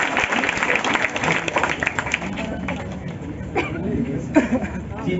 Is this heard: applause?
yes